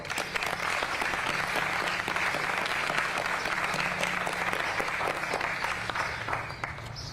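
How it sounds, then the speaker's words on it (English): Crowd applauding athletes at a USA Cycling mountain biking national championships event, sustained dense clapping at moderate level, steady for several seconds and tapering slightly at the end. "Let's give these athletes a round of applause."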